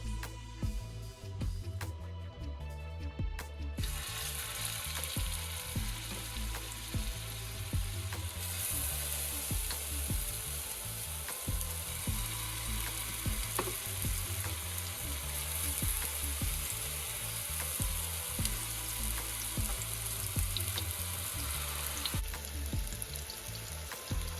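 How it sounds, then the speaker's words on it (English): Meatballs searing in a shallow layer of oil in a skillet, a steady close crackling sizzle with scattered pops and occasional stirring, running continuously for the whole stretch without talk. "So here in my skillet, I put a shallow amount of oil, just a little bit to baste the bottom, to go ahead and sear my meatballs."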